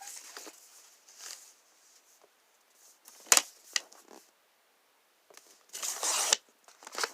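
A card sheet is cut down to nine by six with intermittent snips and crisp paper rustles, one sharp clack, then a longer sliding cutting sound near the end.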